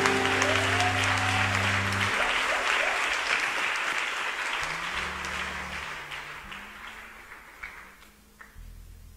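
A church festival congregation in Côte d'Ivoire claps and cheers for the Lord Jesus in sustained, loud applause that slowly fades, with a keyboard sounding underneath.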